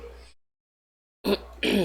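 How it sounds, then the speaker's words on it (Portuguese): Two short throaty coughs up close, the first cut off by a pause of silence. "Desculpa aí o meu momento de tosse"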